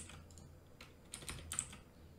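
Quiet keystrokes on a computer keyboard while code is copied and pasted, a few short bursts of typing clicks close by with no voices.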